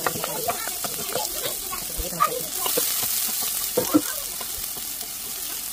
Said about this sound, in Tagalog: Prito natin.